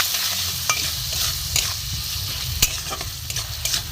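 Ground turmeric, chili, cumin and coriander frying and being stirred in a pan for a vegetable dal, a steady close sizzle broken by repeated scraping strokes of a spoon.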